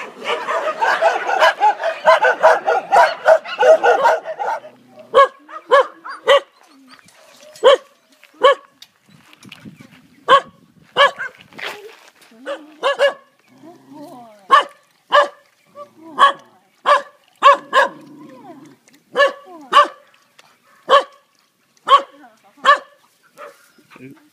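Dogs at the Chiang Mai Elephant Nature Park bark in a busy overlapping burst at first, then continue in sharp separate barks spaced a second or so apart, fairly close, with people talking briefly in between.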